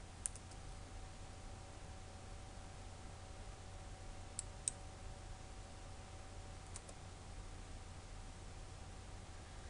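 Sparse, faint computer mouse clicks, a few isolated ticks spread across a steady hiss and low hum, made while working in Flash animation software.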